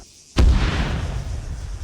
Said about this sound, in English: we hear an explosion on the other side of town